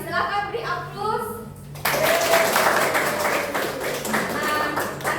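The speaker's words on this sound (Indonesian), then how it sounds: "Silakan beri aplaus." Students in a vocational high school classroom break into applause, a burst of scattered clapping that starts suddenly after a teacher's voice and continues for a few seconds under ongoing talk.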